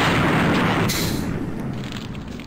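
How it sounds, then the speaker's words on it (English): A loud, booming grenade blast in the video game Hopkins FBI, with a rumbling low roar that slowly fades away, with no talking. "Well, explosions can't be avoided."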